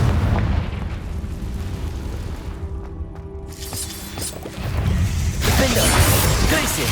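Confringo fire blast spell exploding in Hogwarts Legacy, heavy booming blasts and crashing rumble that fill the scene, dipping briefly before a louder burst of fiery explosion noise swells near the end.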